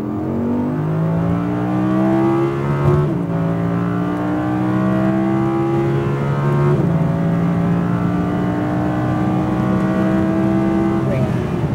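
An Audi R8 V10 RWD accelerating hard on a race track, engine note climbing steadily through the gears with a gear change partway, loud and close from inside the car; an instructor's voice is faintly present at times.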